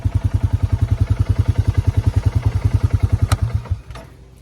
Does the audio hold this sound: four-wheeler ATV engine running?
yes